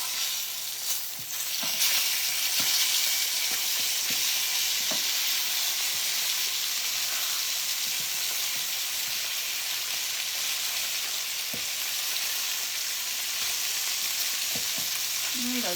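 Pork chops, squash and zucchini frying in a pan, a steady hissing sizzle heard close up with occasional light pops and clinks of stirring, no voices.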